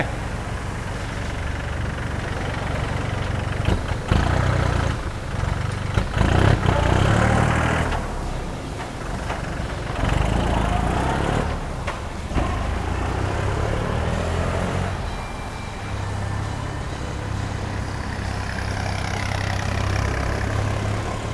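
A used 42-horsepower Iseki tractor with a dozer blade and 1,175 hours, running in first gear, idles and runs steadily with a low rumble throughout, some mechanical clatter and revving swells, no talk.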